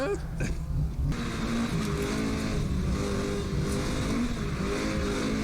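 Drift car engine held at steady high revs, with a brief clutch-kick surge near the start, loud and continuous throughout the played footage.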